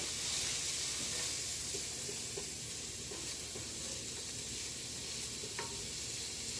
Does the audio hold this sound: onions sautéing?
yes